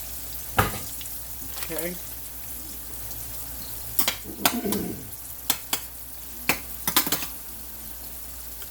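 Chicken frying in a home kitchen pan, a steady sizzle underneath while a utensil scrapes and clacks against the pan several times, with someone speaking briefly.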